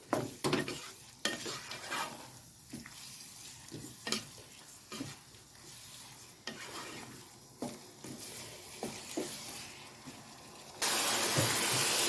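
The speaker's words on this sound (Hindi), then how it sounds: "अब दही के साथ इसको भूनेंगे तो 5-6 मिनट।" Minced keema fried with whisked yogurt in a pan, heard as repeated stirring scrapes and knocks over a low sizzle, which turns to a loud, steady hiss at the end.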